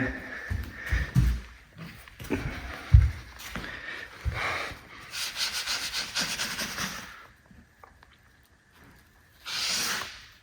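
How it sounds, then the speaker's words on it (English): A wet sponge wipes wood filler across a homemade mixed-hardwood plank floor, making soft, close rubbing and smearing strokes that come in bursts, with short pauses in between. "just put this on here and clean it up with a wet sponge"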